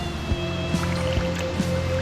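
A canoe paddled on a Florida creek gives soft, close paddle dips and water swishes at a steady rhythm over a constant tonal hum of background noise.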